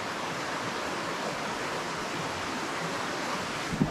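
A river zigzagging past a free campsite at Gresford, heard as a dense, steady rushing wash of water with no pauses.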